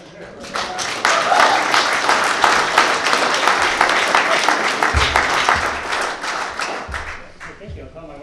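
An audience at a joint city council meeting bursts into sustained applause, dense clapping rising quickly and holding for several seconds before tapering, with a few thumps and murmurs near the end.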